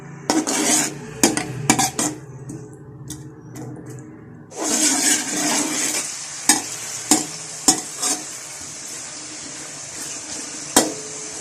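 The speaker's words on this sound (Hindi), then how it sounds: "प्याज को ब्राउन होने तक ऑयल में फ्राई कर लूंगी।" Chopped onions frying in hot oil in a kadhai, with a few sharp metal spoon clinks at first, then a loud sizzling burst that settles into steady frying, broken by repeated clanks of stirring against the pan.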